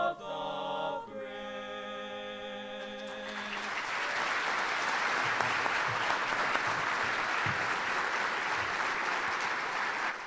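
A stadium crowd bursts into sustained applause and cheering after the national anthem, rising from the anthem's final held notes into a dense, steady roar of clapping.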